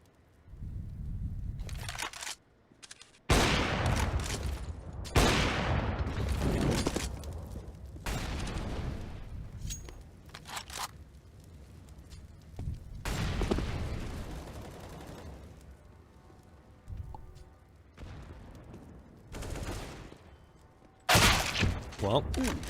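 Counter-Strike match gunfire on the Vertigo map, with Desert Eagle pistol shots and scout sniper rifle cracks in bursts and single loud shots, under a caster talking excitedly throughout.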